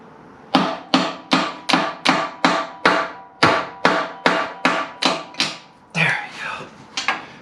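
A hammer strikes a stuck socket during removal of a 13B rotary engine from an FC3S RX-7, delivering about a dozen loud, close metallic blows in a steady rhythm, then a few scattered clanks and knocks.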